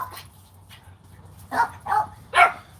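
Pet dogs bark and yip indoors, a few faint calls early and then three louder, sharper barks spaced about half a second apart over a low steady hum.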